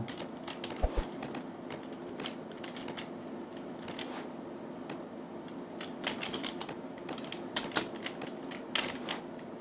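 Computer keyboard keys pressed during a browser game, scattered clicky taps and short quick bursts of keystrokes, close and fairly quiet.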